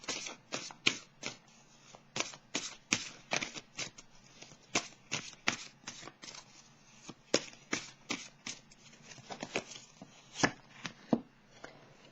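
Tarot cards being shuffled by hand, a rapid run of crisp riffling snaps and slaps in irregular bursts, close and fairly loud, with no talking.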